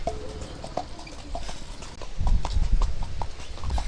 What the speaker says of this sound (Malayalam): കുതിര സവാരി തനിയെ പോകാൻ വേണ്ടിമാ